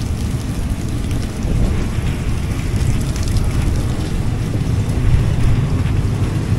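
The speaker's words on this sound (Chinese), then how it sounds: "这个门洞里面的雨全飘进来了" Heavy rain blows in through the open doorway of an old long-distance Thai train bound for Chiang Mai, a dense, continuous close roar of drops and spatter with wind, no voices.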